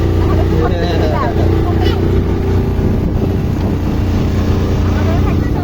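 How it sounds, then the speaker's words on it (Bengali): A boat engine drones steadily and loudly through a boat ride at Poovar, mixed with wind buffeting, while people talk over it throughout. "আমরা যে নৌকাতে আছি সেটা দেখা।"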